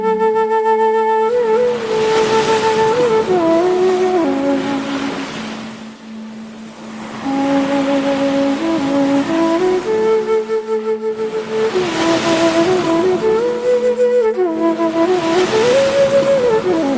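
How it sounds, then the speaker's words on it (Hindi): Ocean waves wash against a seashore in slow swelling surges, rising and falling several times beneath sustained, drifting melodic tones. "समुद्र का किनारा"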